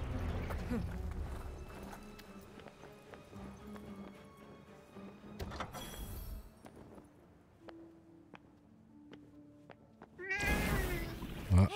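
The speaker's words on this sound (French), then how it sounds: "Oh, c'est trop mignon. Salut, petit chat." A small cat meows in the Forspoken video game, short cries over clip-clopping hooves, light ambient game sounds and music; a brief louder burst of activity comes near the end.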